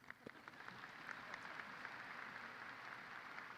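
A high school graduation audience gives polite applause for stage guests in a large hall, a soft, distant patter of many hands clapping steadily throughout.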